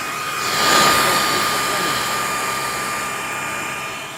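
A Shark Performance Lift-Away upright vacuum with DuoClean PowerFins runs on carpet, giving a loud, steady motor whine and airy roar that swells briefly, then holds.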